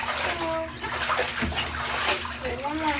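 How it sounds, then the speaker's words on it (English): Water runs and splashes steadily while a dog is rinsed in a bathtub, close and continuous for the whole stretch, with a person's voice talking over it. "Finish rinsing you off."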